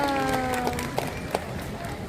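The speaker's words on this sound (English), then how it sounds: "Let's give him another round of applause" An audience claps for a seal at a wildlife show. Steady, moderately loud applause runs throughout, with a voice over it and a few brighter individual claps standing out.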